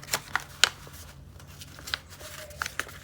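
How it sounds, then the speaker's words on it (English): Paper is folded and creased for an envelope booklet, with sharp close rustles and crisp snaps spaced through a quiet room. "so I fold it back so I can see what I've got going on."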